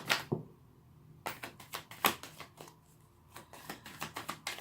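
A deck of tarot cards being shuffled in quick riffling bursts, close by, with short pauses between shuffles and soft handling taps.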